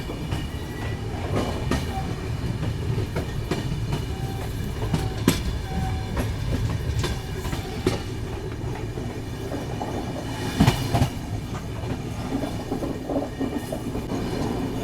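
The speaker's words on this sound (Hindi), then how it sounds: "ये देखो एकदम ऑन टाइम 11:35 पे निकल रही है मानिकपुर जंक्शन से।" The Bundelkhand Express pulls out of Manikpur Junction with a steady loud rumble of rolling stock, rhythmic wheel clatter and occasional squeals and metallic knocks throughout.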